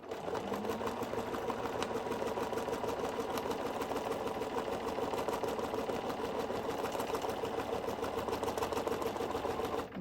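A sewing machine stitches with a free motion foot, running in a rapid, steady mechanical chatter with a low motor hum, continuous and close without pauses or talk.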